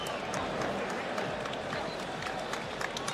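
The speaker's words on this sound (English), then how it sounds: "This crowd on its feet." An arena crowd roars and cheers on its feet after a women's UFC title fight, a loud, steady wash of noise with scattered claps and a commentator's voice faintly underneath.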